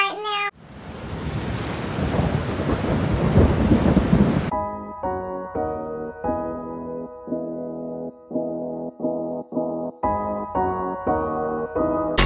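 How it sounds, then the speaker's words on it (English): Heavy rain pours steadily outdoors with a low rumble of thunder beneath it for several seconds, then gives way to a louder tonal passage of music. "The rain sounds really good outside right now."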